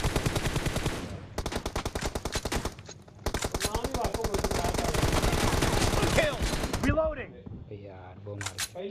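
Sustained rapid automatic M416 gunfire in PUBG Mobile on the Rust map, in long bursts, loud and close, followed by a few scattered shots and game effects.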